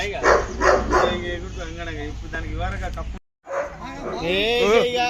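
A dog barks and whimpers close by, mixed in with people talking, with a brief silent gap partway through.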